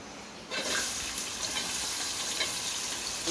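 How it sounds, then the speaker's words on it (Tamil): Onions sauté in a pan with fennel seeds, mustard seeds and urad dal, a steady close sizzle that starts suddenly and then holds evenly, with no talking. "வெங்காயத்தை நல்லா வதக்கி உப்பு போட்டுக்கிறேன்"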